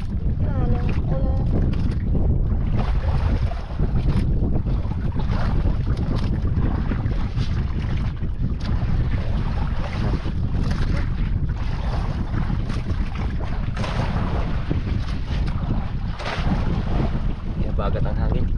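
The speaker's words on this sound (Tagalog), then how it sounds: "Bagat ang hangin." Strong wind roars without a break across the microphone at sea, near and loud, with boat and water sounds mixed in and people talking faintly underneath.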